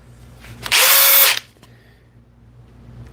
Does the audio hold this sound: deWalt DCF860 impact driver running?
yes